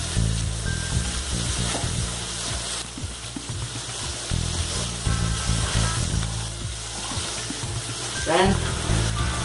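Steady, hissing sizzle of spices frying in a hot pan for mutton rogan josh, with occasional scraping stirs and a voice murmuring underneath.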